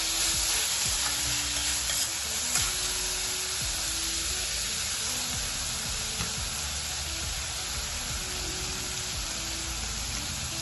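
Tamarind chutney mixture with salt being stirred in a pan, a steady hiss and sizzle with scraping spoon strokes running continuously beneath it.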